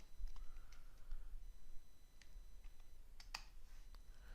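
Code being typed on a computer keyboard, a few faint scattered key clicks at a quiet level.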